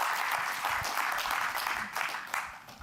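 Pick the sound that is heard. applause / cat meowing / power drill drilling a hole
applause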